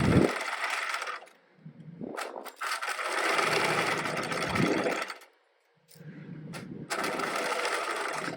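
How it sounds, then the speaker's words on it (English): A sewing machine stitches a lapped zipper in several bursts of fast mechanical whirring, separated by short pauses and a full stop, heard close and fairly quiet. "I'm gonna put my foot down and keep stitching"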